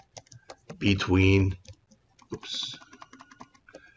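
Rapid clicking keystrokes on a computer keyboard as a search is typed, steady light taps running through the clip, with a voice speaking briefly in between.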